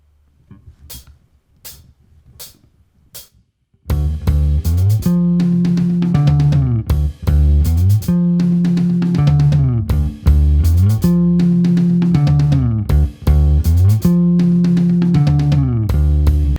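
A bass riff played on a Precision bass with flatwound strings and a pick at 84 bpm, a loud, deep, repeating slinky pattern that starts after a few soft count-in clicks.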